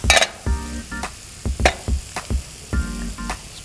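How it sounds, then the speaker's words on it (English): Rigatoni with mushroom and squash is tossed in a sizzling pan of olive oil, giving a series of close scraping, clattering stirs over a steady frying hiss. "Let me turn this pasta for a second."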